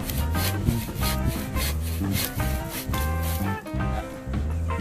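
Rhythmic back-and-forth rasping of a bucksaw cutting through wood, steady strokes close by with no talking.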